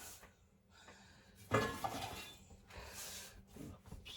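A homemade ham and sausage pizza is worked onto a metal pan, with close scrapes, light clanks and rustling handling sounds coming in irregular bursts, no talking.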